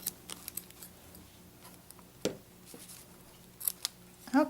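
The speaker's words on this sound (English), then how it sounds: "I'm going to cut these strings." Scissors snip through ribbon strings on gift packaging, a few quick close crisp cuts with small rustles, faint talk in the background.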